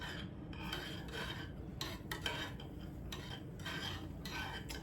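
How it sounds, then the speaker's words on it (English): A slow spoon stirring Turkish coffee in a small pot, giving a soft, continuous scraping rasp with gentle rhythmic swells, steady and close with no talking. "occasionally you'll give it a stir, a slow stir,"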